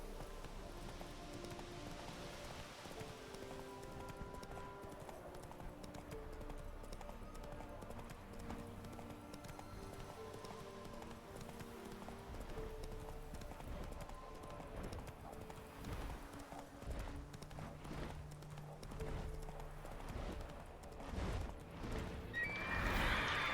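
Hooves of Geralt's horse Roach clip-clop in a steady galloping rhythm in The Witcher 3, joined by a whinny and quiet game music, with a brief spoken word near the start.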